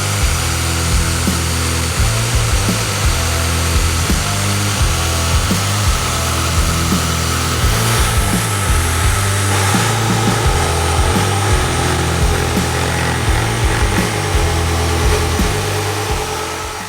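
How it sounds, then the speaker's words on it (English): A Bosch jigsaw fitted with an Expert laminate blade cuts through laminate board in a loud, steady, close buzzing whine with rapid reciprocating chatter that runs unbroken for the whole stretch. "we're going to use the Expert laminate blade with the jigsaw, and we'll cut it and then get it in."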